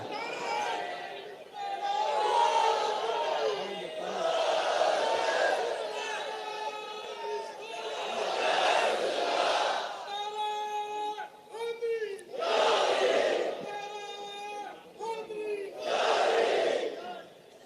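A crowd at a religious sermon shouts slogans in loud, repeated group bursts, rising and falling in waves with short pauses between calls.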